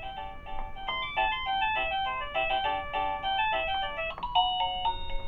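Wireless doorbell chime playing a bright, loud electronic melody of rapid ringing tones, close and continuous with no talking.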